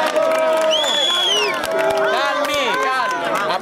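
A political rally crowd in the Italian Chamber of Deputies gives off a loud, dense roar of cheering and shouting voices with some clapping, sustained throughout at close range.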